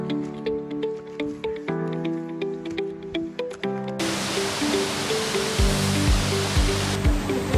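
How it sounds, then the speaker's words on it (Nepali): Rhythmic music plays alone at first, then a loud rushing roar of falling water at Mohini waterfall near Chitlang, Nepal, takes over while the music continues underneath. "बल्ल हामी यहाँ मोहिनी झरना आइपुग्यौँ एकदमै राम्रो थियो यो झरना"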